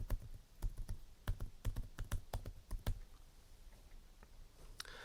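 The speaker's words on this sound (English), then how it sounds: "Can hear the keys." Typing on an Asus Zenbook S13 laptop keyboard: a quick, irregular run of crisp, close key clicks that thins out into a few scattered taps, with no voices.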